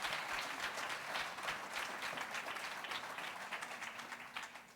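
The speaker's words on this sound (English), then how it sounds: "Can we give a big round of applause to all our siblings?" A summit audience claps for a siblings panel, giving a continuous round of applause that stays full and even before tapering slightly at the end.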